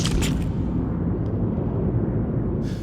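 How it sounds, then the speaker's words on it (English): Film sound effect of specific explosions, kept separate from incoming artillery: a continuous heavy low rumble of blasts that holds loud for about three seconds, with brief crackling bursts at the start and end. "So, we'll get these explosions, specific explosions."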